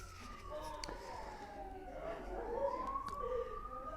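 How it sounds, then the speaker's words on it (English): A siren wails in the distance, its tone sweeping up and down as an emergency vehicle passes, over steady traffic rumble. "I'll let the ambulance or police car go past."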